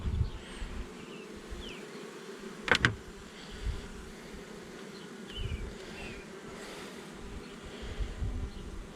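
Honeybees drone softly around an open hive, a low continuous buzz with a few scattered bumps and one sharp knock of handling, no talking.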